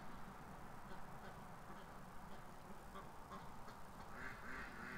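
Several ducks quack in a backyard enclosure near a lake, the quacks faint and scattered over a steady bed of outdoor noise.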